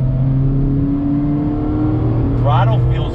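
A 2019 Mazda MX-5 Miata RF engine hums under throttle with a steady tonal drone from inside the car, and a voice briefly cuts in near the end.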